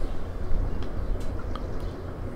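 Ark Survival Evolved character swimming through water, a steady churning underwater wash with a few faint drips and splashes throughout.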